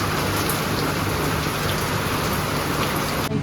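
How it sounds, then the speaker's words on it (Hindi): Heavy rain pours down steadily, a dense, loud, unbroken hiss of drops hitting surfaces close by, with no voices, ending with a brief dip at the close. "आप देख सकते हैं कि तेज बारिश हो रही है सारी।"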